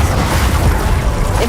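A Glacius ice spell is cast in Hogwarts Legacy, giving a loud, dense, noisy burst that fills the short moment with steady rumbling energy and no speech.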